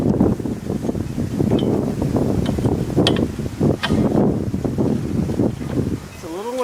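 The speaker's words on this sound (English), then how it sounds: "It's a little windy today." Gusty wind buffets the microphone in a steady, rushing roar while an IOD sailboat is rigged on the water, with a voice faintly underneath.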